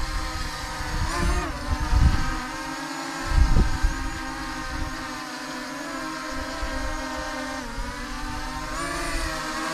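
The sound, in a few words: Holy Stone HS360S drone flying and landing in wind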